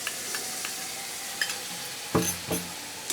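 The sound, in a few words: stirring and frying spice paste in a pan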